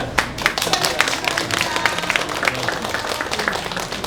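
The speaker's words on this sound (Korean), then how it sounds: "우리가 박수 잘 치고 잘했다고 격려 한번" Residents clap together at a public meeting on keeping Mangwolsa Station's north exit open, a dense, even round of applause that holds steady for about four seconds.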